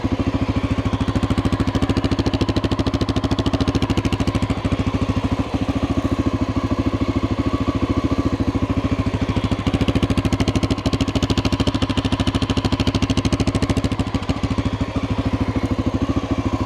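A 1988 Honda NX650 motorcycle idles after a cold start, its engine running with a steady, loud, close, even rumble and fine rapid clatter throughout, with no talk.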